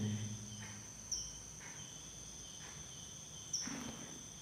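Crickets chirping at night in a village near a volcano outside Yogyakarta, a faint steady high trill running throughout, with a few soft brief rustles and no voices.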